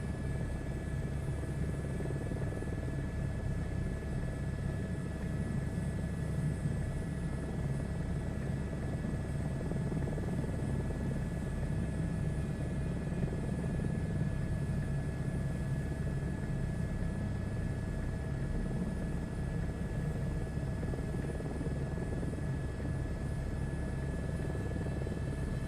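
A helicopter hovers in place in Microsoft Flight Simulator 2024, giving a steady, unbroken rotor and engine drone at a constant level with no voices.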